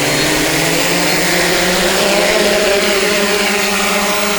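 A Halo drone lifting off outdoors gives a loud, close, steady whirring buzz from its spinning propellers, which holds constant throughout.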